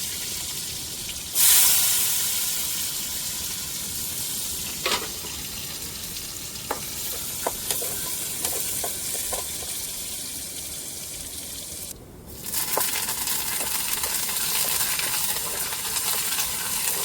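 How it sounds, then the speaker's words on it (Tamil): Spices for tempering chicken curry fry steadily in hot oil, a continuous crackling sizzle with occasional metallic clinks of a spoon or pan. A brief louder burst comes early, then the sizzling carries on with no one speaking. "இப்போ குழம்பு வத்திருச்சு இப்போ தாளிச்சுக்கிடுவோம்"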